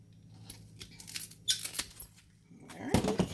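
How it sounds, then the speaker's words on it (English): Scissors snip away a browned, damaged leaf from a houseplant, giving a few short, close cuts with small squeaky clicks and rustles, fairly quiet with no talking. "I'm just going to cut that off too."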